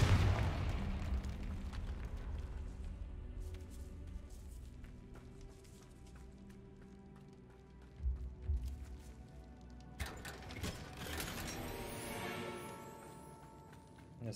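A Confringo fire-blast spell in Hogwarts Legacy booms out amid a dense, rumbling layer of game effects and music, with a sharp burst of noise near the end.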